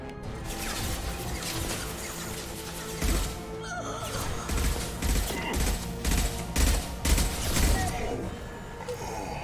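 Bursts of sci-fi weapon fire rattle and crack during a firefight in the video game Mass Effect 2, loud repeated volleys that cluster and surge toward the back half.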